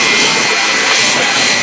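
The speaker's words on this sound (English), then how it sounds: "The Rolls-Royce jet engine for this truck was originally at home in the British Airways." Rolls-Royce jet engine, originally from a British Airways airliner, mounted on a jet-powered fire truck at an airshow, roaring loud and steady with a broad hissing, whooshing blast throughout.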